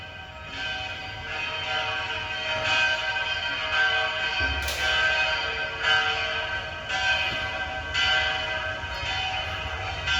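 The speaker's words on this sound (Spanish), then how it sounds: "Las campanas de San Nicolás tienen su historia." Church bells of the Co-Cathedral of San Nicolás in Alicante ring steadily with a rich, sustained metallic tone, repeated strikes blending into a continuous resonant peal.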